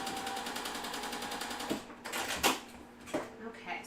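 A sewing machine stitches quilt blocks together, running in a fast, even mechanical chatter for about two seconds before stopping, followed by a few clicks and bumps while a person speaks.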